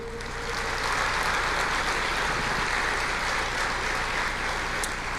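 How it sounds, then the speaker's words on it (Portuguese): A church congregation applauds in praise during a sermon, a broad, steady wash of many hands clapping at once, sustained and fairly loud throughout with no voices standing out. "Você pode aplaudir o Senhor?"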